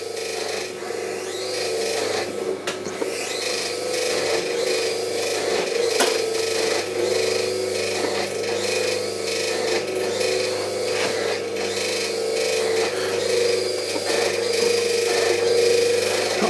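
A metal rib scrapes an agateware clay pot spinning on a new pottery wheel, giving a continuous close rasping rub over the steady hum of the wheel motor, with no talking.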